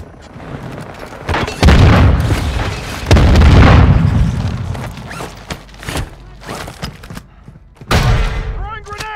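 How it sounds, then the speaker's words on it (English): Loud booming explosions and bursts of gunfire in the shooter game Warzone 2.0, with heavy blasts near the start and middle, scattered shots between, and a final crack near the end. "Throwing grenade!"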